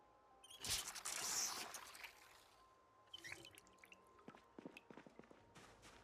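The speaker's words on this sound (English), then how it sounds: "Let's fill up our water." Faint trickles and drips of water being filled up in the survival video game Project Zomboid, a soft pouring burst at first, then scattered small clicks and splashes, quiet and without voices.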